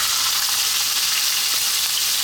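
Cumin seeds and finely chopped onion frying in hot olive oil for a dal, a loud, close, continuous sizzle with crackling hiss and no voices.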